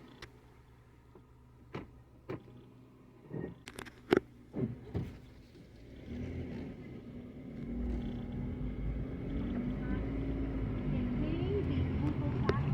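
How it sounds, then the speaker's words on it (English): A Mitsubishi Outlander in park is started, with a few clicks and clunks in the cabin first, then a low, steady engine idle that rises and continues to the end, heard from inside the vehicle. "I just turned on the engine."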